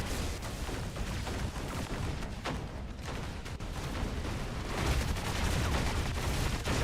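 Robot guns in the War Robots game fire through an enemy shield, a dense, continuous barrage of loud gunfire and booming impacts that never lets up across the whole stretch.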